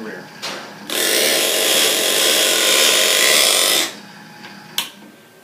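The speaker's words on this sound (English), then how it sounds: "As you can hear, the U-joint is constantly slowing down and speeding up as it's oscillating." A driveshaft with its U-joint spun up on a demonstration rig makes a loud, steady whirring drone for about three seconds before it cuts off. A few short knocks and faint talk come before and after.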